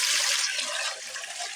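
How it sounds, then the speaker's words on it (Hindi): Water pours steadily into a cooking pot being filled to boil rice, a continuous close rushing splash that fades slightly toward the end. "चावल उबालने के लिए सबसे पहले हम पानी लेंगे।"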